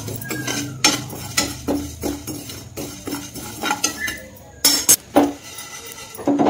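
Cumin, mustard and fenugreek seeds dry-roast in a hot pan for lemon pickle, with a spoon stirring and clinking against the metal in repeated close, uneven taps and scrapes.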